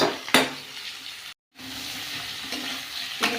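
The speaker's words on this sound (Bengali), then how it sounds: "কুমড়ো, আলু, পুঁই ডাঁটা, পটল একটা, এগুলো নুন হলুদ দিয়ে ঢাকা দিয়ে ভাজবো" Pumpkin, potato, Malabar spinach stems and pointed gourd fry with salt and turmeric in a covered pan, a steady close sizzle broken by a few sharp stirring clatters and one brief silent gap.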